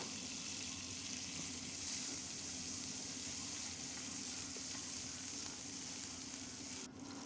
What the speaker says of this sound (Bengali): মশলাটা দিয়ে নেড়ে চেড়ে একটু ভেজে নেব